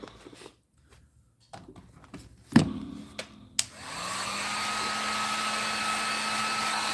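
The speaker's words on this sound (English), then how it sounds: "This is a heat gun, and this heat gun is just going to dry this paint up" Several soft clicks and handling knocks give way to a heat gun switching on, then blowing with a steady, loud whoosh as it dries fresh paint on a custom piece.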